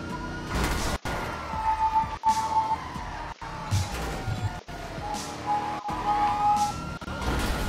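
Police car sirens wail continuously in the video game GTA V, loud and close, with rising and falling tones layered over engine and street noise, and no talking.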